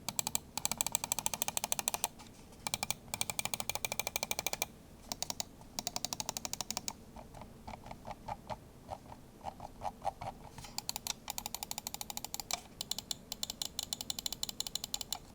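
Button clicks from an Asus gaming mouse, rapid bursts of crisp, close ticking clicks in quick runs separated by short pauses, sharp and dry against a quiet background.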